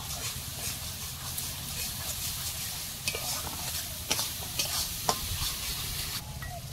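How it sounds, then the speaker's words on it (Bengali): A spice paste with Kashmiri chili powder fries in a pan, giving a steady, close hiss and sizzle, with a few scraping stirs standing out toward the end. "ভালো করে মশলাটাকে কষিয়ে নেব।"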